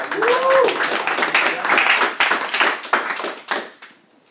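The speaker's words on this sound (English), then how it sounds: "Give you guys a round of applause." A group claps together after a sales role-play practice session, a brief burst of applause in a room with voices talking over it before it fades out.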